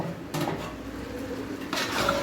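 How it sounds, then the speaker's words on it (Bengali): Chicken biryani meat being stirred in a pot over a gas flame: two bursts of a utensil scraping and clanking against the metal pot, fairly close, over a steady background hiss. "এখন এটা আমি একটু গ্যাসের মধ্যে দিয়ে একটু নাড়াচাড়া করে নিব"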